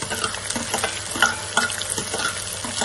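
Sliced shallots sautéing in a pan for beef fry, a continuous close sizzle with scraping stir strokes throughout and no voices.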